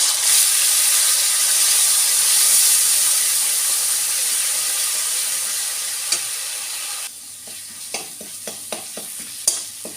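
Onion paste hits hot oil in a pan with a loud, hissing sizzle that holds for several seconds, then drops to a quieter fry with scattered sharp spatters and taps.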